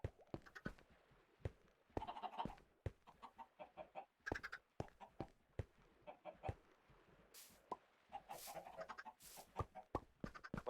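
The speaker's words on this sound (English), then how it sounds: "Plenty of chickens over here." Chickens cluck and squawk in a blocky building game, a steady run of short, close clucks with brief gaps between calls.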